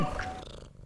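A cat purring briefly up close, a soft low rumbling vibration lasting under a second.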